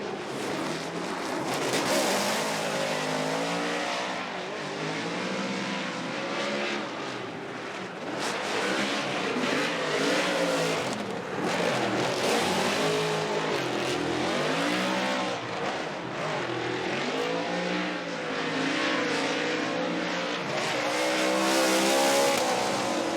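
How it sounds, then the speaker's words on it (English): Ford Performance Mustang RTR Spec 5D drift car at a Formula Drift competition at Road Atlanta, its engine revving hard and tires squealing in a long, continuous roar heard from trackside, with no talking. "Let's lay back and listen to the Monster Energy Nitto Tire Ford Performance Mustang RTR Spec 5D"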